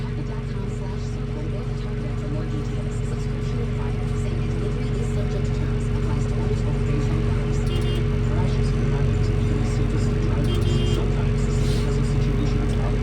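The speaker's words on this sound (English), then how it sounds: "We've got rock trucks scheduled all day long, hauling shot rock." Heavy rock trucks hauling shot rock at a swamp fill site: a continuous low diesel engine drone with steady humming tones, a few faint beeps near the end, and nobody speaking.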